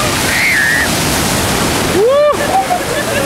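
Surf washes steadily over a pebble beach at Lazarevskoye on the Black Sea, a close, continuous roar, with a brief burst of a voice partway through.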